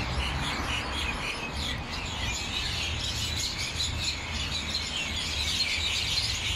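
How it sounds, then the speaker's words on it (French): Birds nesting in a museum building in Tashkent chirp steadily in a dense high twittering over a constant background hum, with no talking. "J'ai l'impression que le bâtiment, il abrite des nids d'oiseaux."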